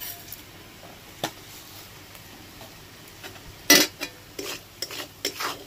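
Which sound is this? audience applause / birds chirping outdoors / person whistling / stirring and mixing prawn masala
stirring and mixing prawn masala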